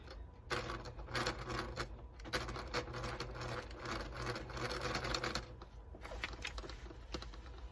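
A sewing machine runs steadily, top stitching a pair of pants, with a rapid mechanical rattling hum that briefly pauses and restarts a few times, close and quiet.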